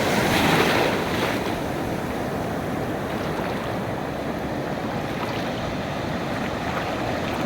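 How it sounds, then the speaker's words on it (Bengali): Sea waves roar continuously on the beach at Cox's Bazar, a dense, loud wash of surf with some wind buffeting the microphone and a slightly stronger surge near the start. "নিশ্চয়ই আপনারা সমুদ্রের গর্জন শুনতে পাচ্ছেন। বিশাল একটি ঢেউ তেড়ে আসছে আমার দিকে।"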